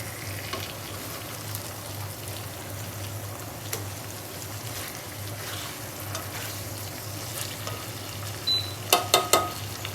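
Pomfret fish in spicy masala frying in a pan after being flipped, a steady close sizzle with a few louder spattering pops near the end.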